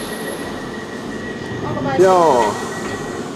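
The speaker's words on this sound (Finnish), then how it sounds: "Tää taisi olla ihan oikea metro." A London Underground metro train rumbles steadily, then its wheels squeal loudly for about half a second on the track before settling back into the rolling noise, with a brief voice heard nearby.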